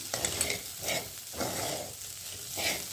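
Dry Jain okra (bhindi) bhaji with masala, coriander and curry leaves roasting in a pan, stirred and pressed in four rhythmic scraping strokes over a soft sizzle, close and without talk.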